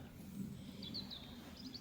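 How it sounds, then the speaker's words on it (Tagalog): Birds chirping outdoors: a few faint, high chirps scattered through the second half over a steady low drone of background noise. "Tunog lang ng mga ibon, tunog ng eroplano."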